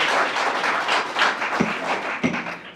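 An audience at a school board meeting applauding, a dense burst of clapping hands in a large room with a couple of thuds, fairly loud and fading toward the end.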